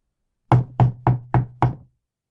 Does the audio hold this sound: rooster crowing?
no